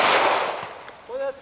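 A single sharp pistol gunshot cracks loudly at an outdoor shooting range and decays quickly, followed by a brief high tonal ring.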